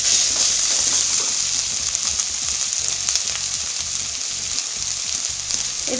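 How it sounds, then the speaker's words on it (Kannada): Eggplant roasting with ginger paste in a pan, a loud, continuous hissing sizzle with faint stirring scrapes and light crackles running throughout, no talk. "ಬದನೇಕಾಯಿ ಸ್ವಲ್ಪ ಗೋಲ್ಡನ್ ಕಲರ್ ಬರೋವರೆಗೆ ಬಾಯ್ಲ್ ಮಾಡ್ಕೊಳ್ಳೋಣ. ಈ ಥರ ರೋಸ್ಟ್ ಆಗಲಿ"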